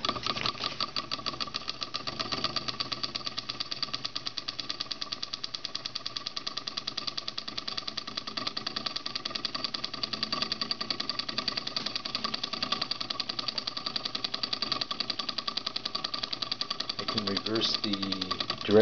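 Antique solenoid motor running on a single 1.2-volt nickel-metal-hydride AAA battery, giving a fast, even, buzzy mechanical clatter that holds steady close up throughout.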